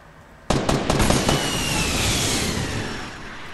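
SCAR assault rifle fire in the Fortnite battle royale game: a rapid burst of several sharp, loud shots in quick succession, followed by a long, fading reverberant tail.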